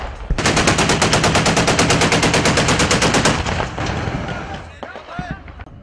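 Loud automatic gunfire in Aleppo during fighting: a fast, steady burst of rapid shots lasts about three seconds, then fades into scattered, fainter sounds and echoes.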